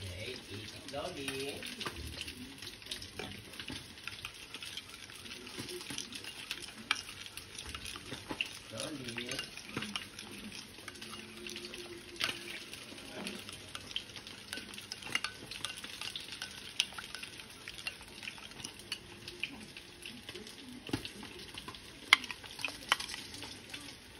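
Milkfish (bangus) frying in a pan for sisig, a steady low sizzle with scattered crackles and pops running throughout, while a voice talks faintly in places.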